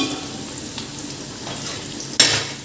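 Chopped tomato goes into frying chicken gongura curry, giving a steady low sizzle that jumps into a brief, sharper burst of frying as the pieces hit the hot pan near the end.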